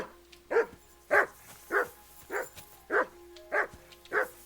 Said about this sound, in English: No one wants to hear your barking.